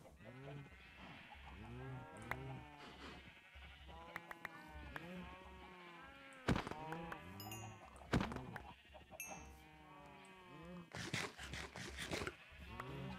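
Video game sheep bleat repeatedly in short wavering calls, several overlapping at close range, with occasional clicks and brief bursts of other game sounds between them.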